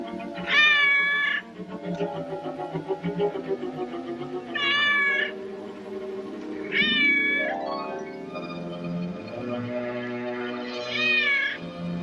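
A cat meows repeatedly in a radio drama scene, with four or five drawn-out, wavering cries spread over several seconds, heard close against a low background murmur.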